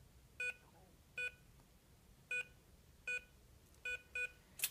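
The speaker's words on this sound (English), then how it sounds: "2 beeps means it's the correct code" Six short electronic beeps from a safe's keypad lock, evenly spaced like button presses, clear and close in a quiet room, with a brief higher tone at the end.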